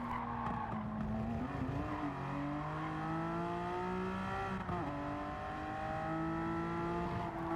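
Porsche race car in Gran Turismo 7 holding a steady, loud engine note, rising and shifting through gears with a brief dip midway, accompanied by tire squeal.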